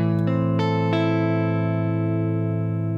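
Several electric guitar notes are picked in quick succession through a Fat Squash compressor, then ring out as a sustained, evenly compressed chord that barely fades.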